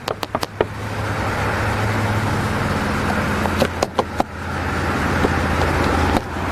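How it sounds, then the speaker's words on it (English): A car idles steadily at a roadside traffic stop, a low continuous engine rumble under broadband road noise, broken by several sharp clicks and knocks near the start and middle, no voices. "Do me a favor, shut the car off for me."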